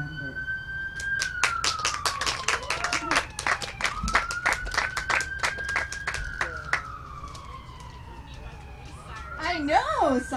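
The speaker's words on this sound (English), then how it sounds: "I know, sirens and everything." A wailing emergency siren rises and falls in the distance, with a brisk burst of clapping or rapid knocking partway through and a voice near the end.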